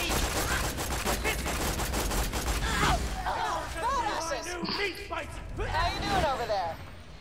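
Rapid gunfire from the video game Borderlands 2, dense bursts of shots and mechanical clatter running through the clip, mixed with game sounds and people talking over it.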